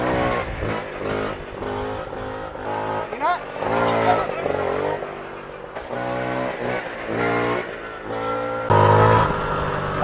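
A Ciao moped engine revs and accelerates into a wheelie, buzzing in repeated rising bursts with short drops between them, close and loud, with someone talking over parts of it.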